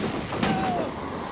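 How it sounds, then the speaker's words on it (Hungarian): Gunfire in the video game Alan Wake Remastered, a single sharp shot cracking out over a dense, noisy game soundtrack. "Lövések."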